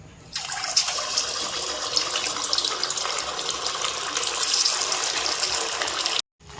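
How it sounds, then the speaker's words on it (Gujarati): A steady, loud hiss of semolina medu vada frying in hot oil, broadband and continuous for several seconds, then cutting off abruptly near the end. "ગરમ થઈ ગયું છે, હવે આપણે એને તળી લેશું"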